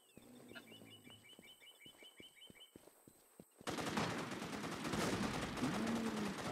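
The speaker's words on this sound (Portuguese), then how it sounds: "Alguém tomando tiro de PKM aí" Rapid bursts of PKM machine gun fire in a video game, at first scattered and distant, then a sustained loud rattling volley, with faint chirps in the background.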